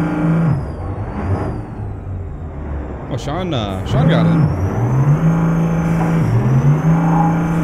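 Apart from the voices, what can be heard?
truck engine in video game American Truck Simulator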